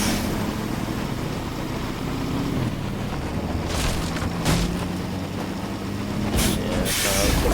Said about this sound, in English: I just decided to take the truck instead